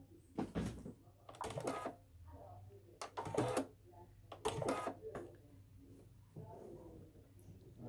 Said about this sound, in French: Donc je vais piquer ma boutonnière.